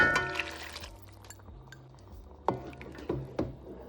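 A cup of water is poured into a pot of chicken and rice seasoned with bay leaf and white pepper: a short, close liquid splash and fill, with a few light clinks of the cup against the pot.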